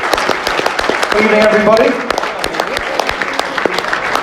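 An audience applauds to welcome the evening's host at a football legend's speaking event, the clapping under a man's greeting.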